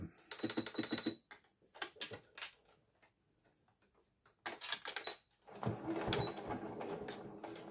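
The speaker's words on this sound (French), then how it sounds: "On va faire une surpiqûre tout le long à 2 mm du bord." A sewing machine topstitching a seam along the edge of a fabric cigarette case, running in quick rapid ticking bursts with short pauses between runs, close and moderately loud, with no talking.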